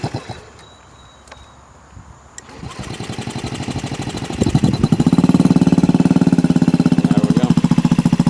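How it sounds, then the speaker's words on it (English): A Honda Ruckus scooter engine that previously would not start, after a valve shim change: a quiet cranking, then it catches and settles into a loud, steady, rapid putter with no voices. "Bike is running good. No valve noise."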